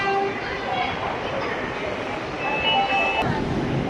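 Rumbling Indore metro train noise with steady broadband roar and faint tonal hums, continuous and fairly close, with background voices and station bustle mixed in.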